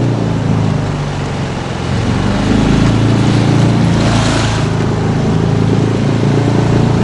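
An outboard motor on a boat runs loud and close on a taiga river, a constant, steady drone broken only by a slight surge partway through, with water rushing beneath and no voices.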